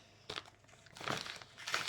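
A package wrapping is crinkled and crumpled as it is unwrapped, soft irregular bursts of plastic rustling close by, fairly quiet, with no talking.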